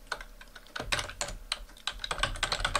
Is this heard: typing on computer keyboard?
yes